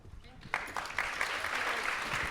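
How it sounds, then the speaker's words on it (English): An audience at a fashion education workshop breaks into applause for the panelists, clapping starting abruptly after a brief moment and building into steady, moderately close clapping. "Let's give our panelists another round of applause."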